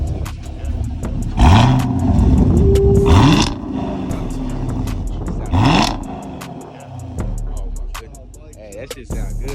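A Camaro SS with a 10-speed roars past close by, its engine swelling through several loud revving surges that rise and fade, while voices chatter faintly around it.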